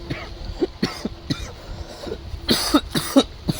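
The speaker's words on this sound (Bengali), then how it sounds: "তো কাশি হয়েছে" Someone with a throat infection coughs in a series of about six sharp, close bursts, the last few louder and harsher.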